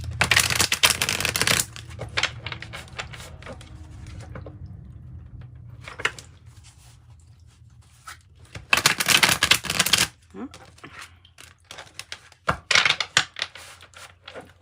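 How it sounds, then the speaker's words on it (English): Tarot and oracle cards are shuffled by hand in loud, dense bursts of riffling and flicking, separated by quieter stretches of softer handling close to the mic. "One more good shuffle,"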